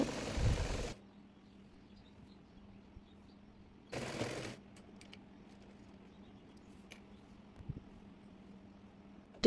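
A sewing machine stitching petticoat fabric runs in two short bursts of rapid whirring, separated and followed by quiet with faint handling clicks.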